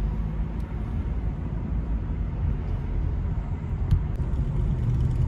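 Inside a normal passenger car on the move, a steady low road rumble and engine drone fill the cabin continuously, with faint occasional clicks and no voices.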